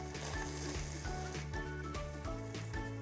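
Sliced carrots sizzle and fry in a pan while being stirred for a home-cooked meal, a steady close crackle with faint scraping and clinks of the utensil against the pan.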